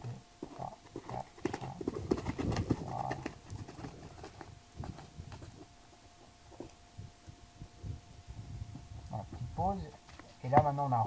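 A horse cantering in a riding arena during a dressage-style training session, hooves thudding in a soft rhythmic beat beneath a coach's French instructions and a faint steady hum.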